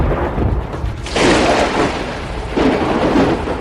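Heavy thunder strikes crash twice as a dramatic sound effect for a lightning tribulation, each a loud booming burst with a long rumbling tail, no talking.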